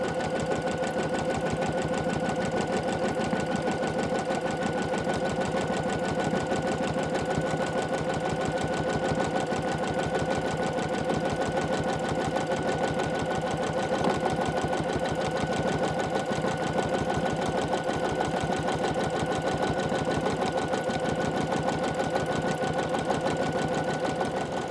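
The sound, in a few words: sewing machine stitching background quilting with gray thread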